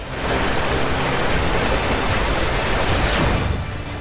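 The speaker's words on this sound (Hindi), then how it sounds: "उसके नीचे धारा प्रवाह पानी बह रहा है।" A stream of water flowing beneath thin tree-trunk log crossings near Savarpada village in Nashik, Maharashtra, heard as a steady, loud rushing wash with no voices.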